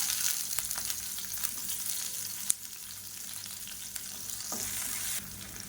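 Garlic cloves, ginger pieces and a medium onion frying in a hot pan, a soft steady sizzle with a few light clinks and one sharp utensil tap partway through.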